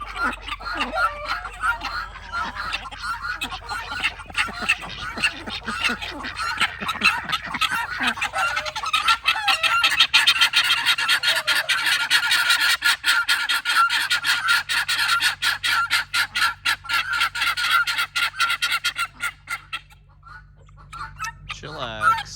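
Farmyard poultry, guinea fowl with a rooster and ducks, call loudly in dense overlapping squawks, clucks and honks that run on without pause and thin out near the end.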